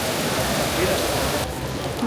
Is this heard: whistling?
no